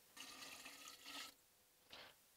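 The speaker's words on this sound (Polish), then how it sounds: "I teraz dodajemy do tego 300 ml wody." Water is poured into a whisky mixture in two splashy bursts followed by a shorter third trickle, faint and close, ending in a sharp knock.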